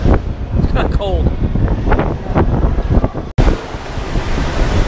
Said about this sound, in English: The wind is blowing this direction.